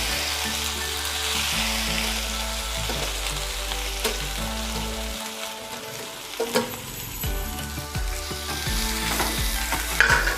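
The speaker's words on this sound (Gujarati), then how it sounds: "હવે એમાં આપણે આ કારેલા નાખી દઈશું" Bitter gourd dropped into hot oil with sesame seeds and asafoetida for a Gujarati chutney, giving a loud, continuous close sizzle with clattering stirring and a brief burst midway.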